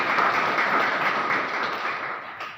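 A crowd at a police-organised public programme applauds, a dense, steady wash of clapping from many hands that fades slightly toward the end.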